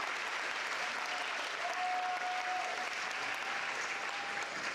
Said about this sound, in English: Another round of applause for our salutatorian